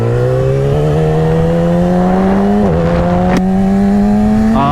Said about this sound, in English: As you can hear, the bike is outfitted with a quick up and down shifter.